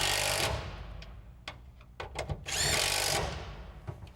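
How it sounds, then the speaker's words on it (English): Power tool driving bolts into the tie downs of a bedliner in a 2004-2014 Ford F-150 truck bed, with two loud sustained whirring bursts and short clicks and knocks between them, close and without talk. "Once they're started, run the bolts in."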